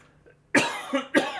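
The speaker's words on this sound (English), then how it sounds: "Sorry, still got a slight cough." Two sharp coughs from a nearby person, a short pause between them, in an otherwise quiet room.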